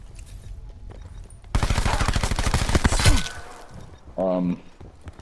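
A burst of rapid gunfire in a video game rattles off in a fast, even stream for about a second and a half, followed by a brief electronic tone; a player talks around it.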